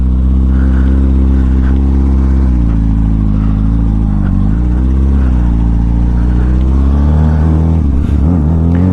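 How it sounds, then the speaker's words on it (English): A 2004 Kawasaki ZX6R 636 stunt motorcycle idles and revs loudly up close, its engine note rising and falling in several throttle blips, dipping sharply near the end. "this is my new bike. 2004 ZX6R 636 at stock height"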